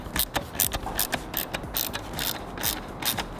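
A ratchet tightens a bolt on a bracket of a Honda FL5 Civic Type R, giving close, rapid bursts of clicking strokes in an uneven rhythm with no talking.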